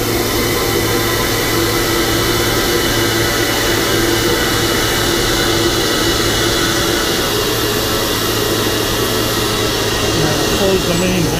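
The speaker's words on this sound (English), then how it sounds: "You can still hear it hum. That would be the regulator." A constant broadband hum and hiss drones steadily without pause, loud and close, like a regulator running.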